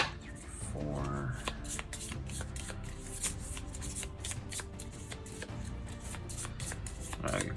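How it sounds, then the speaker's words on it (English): Cards shuffled rapidly in a deck-building game, quick crisp riffling and flicking clicks in a fast, busy rhythm, close and fairly quiet, with a rising synthetic tone early on. "If you guys are noticing how quickly I am shuffling my deck here"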